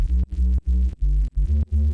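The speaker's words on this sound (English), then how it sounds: "noise channel being amplitude modulated by a rectified signal negatively to just fold into the zero crossings" A low, buzzy synthesized tone pulsing rhythmically, chopped into about six even bursts with brief dips of near silence between them.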